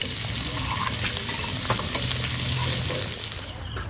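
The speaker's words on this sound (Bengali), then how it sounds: "পোলাও রান্না করার জন্য আগে কাজু কিশমিশটা ভেজে নেব," Cashews and raisins fry in ghee while being stirred for Gobindobhog rice pulao, making a steady, close sizzle with faint scraping from the stirring.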